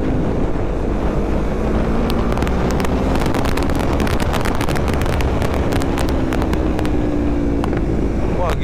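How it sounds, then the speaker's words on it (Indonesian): A Kawasaki Ninja 650 motorcycle on a test ride, its engine droning and shifting pitch under heavy, constant wind rush from riding at speed. "Kita tes aja motor ini yuk."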